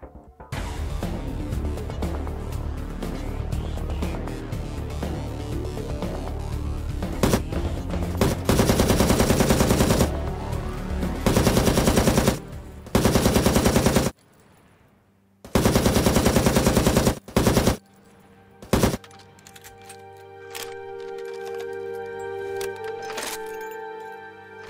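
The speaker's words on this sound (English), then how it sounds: "Let's go in with the LMG then." LMG machine gun fire in the sci-fi shooter Steam Moon Mystery: several loud sustained bursts, separated by short gaps and a near-silent pause, over ongoing game music.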